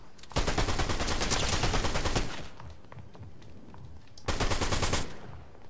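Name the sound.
submachine gun fire in a video game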